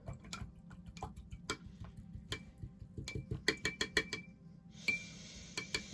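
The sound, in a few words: paintbrush being rinsed in water jar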